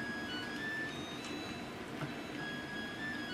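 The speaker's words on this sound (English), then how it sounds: "what you hear is our dryer." A household clothes dryer running as a steady low hum and rumble with faint tonal whine, constant and fairly quiet throughout, with no talking over it.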